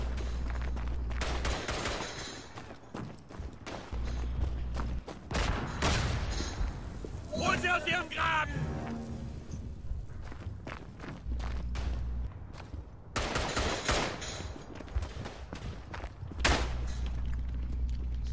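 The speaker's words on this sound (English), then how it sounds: "Why are we launching artillery on ourselves?" Artillery and gunfire in the World War I shooter Verdun: bursts of rifle and machine-gun fire and heavy booms come in waves over rumbling battlefield noise, with shouted voices mixed in.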